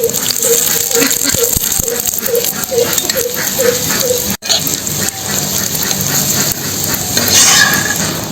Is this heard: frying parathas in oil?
yes